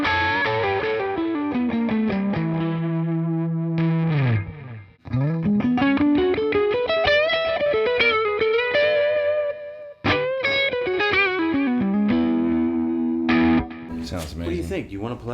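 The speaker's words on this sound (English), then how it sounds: "It's such a beautiful guitar. It sustains for days." Electric guitar played through distortion and chorus effects, long sustained bending notes and chords ringing out loudly, with brief pauses between phrases.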